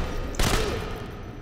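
A single rifle shot in the WWII sniper game Sniper Elite V2 lands as one dull, muffled crack. A short rumbling tail fades out over a steady background hush.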